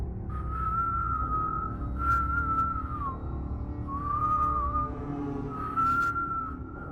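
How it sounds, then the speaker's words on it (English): A slow, drawn-out whistle holds long wavering notes, pausing and returning, over a low steady rumble in the background. "The same slow whistle, like a tune that had been stripped of rhythm."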